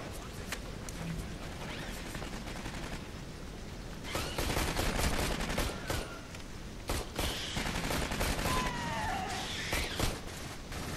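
Sentry gun turrets in Aliens: Colonial Marines firing in rapid automatic bursts, with dense clusters of shots coming in waves amid battle noise and a few faint whining tones.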